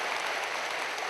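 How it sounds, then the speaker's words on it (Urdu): A dense, steady burst of applause fills a large hall at a Pakistani Prime Minister's laptop-distribution ceremony, many hands clapping loudly and continuously without pause. "آپ کی بھرپور تالیاں خواتین حضرات"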